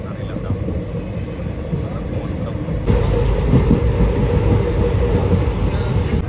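A train runs through the Thar desert near Munabao on the India–Pakistan border line, a steady loud rumble of wheels and carriages that grows slightly heavier partway through, with some talk beneath it.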